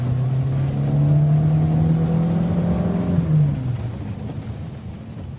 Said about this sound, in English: Then I shut my door, and Vivian started the engine.